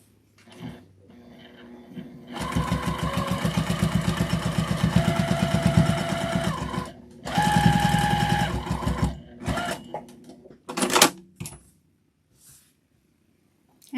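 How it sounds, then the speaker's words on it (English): Close, loud sewing machine stitching in the ditch on a scrap-fabric mug rug, running steadily in two long bursts separated by a short pause, then a few clicks and handling noises. "I'm going to add some quilting down the lines on both sides, stitching in the ditch."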